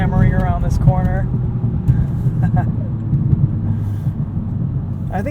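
A 2022 Volkswagen Golf R with DSG gearbox, driven hard through a corner in track mode, gives a steady loud engine and road rumble with rising and falling tones, under someone talking throughout.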